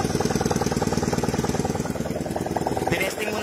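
A 4-valve GY6 motorcycle engine with a stock starter motor runs close by, a loud, steady, rapid idle chatter that pulses evenly throughout with no letup.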